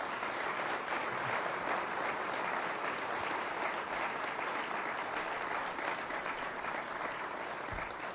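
Steady audience applause for Governor Cuomo and Seneca Nation President Snyder at a public event in Buffalo, a dense wash of clapping that holds even and full for the whole stretch without letting up.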